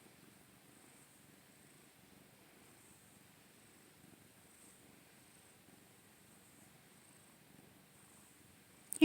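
A cat purrs softly and steadily while being petted, a faint, close, continuous rumbling rhythm that runs throughout, ending with a brief bump near the microphone.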